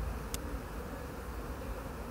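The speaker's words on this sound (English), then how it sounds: "It takes 21 days for a worker bee to hatch." Honeybees at a riverside hive give a steady, close, low buzz that holds constant throughout, with one brief sharp click early on.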